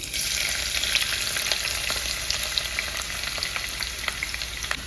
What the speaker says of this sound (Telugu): ఆయిల్ హీట్ ఎక్కిందండి ఆనియన్స్ వేసుకున్నాం